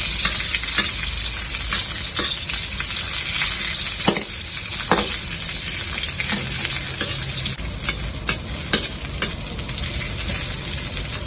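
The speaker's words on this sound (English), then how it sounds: "Put in the capsicum first and use a lower fire." Capsicum frying in oil over low heat, a steady close sizzle with occasional sharp clinks and scrapes of a utensil stirring in the pan.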